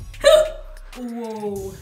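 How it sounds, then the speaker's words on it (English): A woman gives one sharp hiccup up close, right before a short spoken exclamation. "that was a hiccup"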